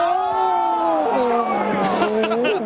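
Arena crowd at an NBA All-Star Game reacting to a missed lob, a loud mix of chatter and rising shouts over a steady hubbub, with voices in the foreground.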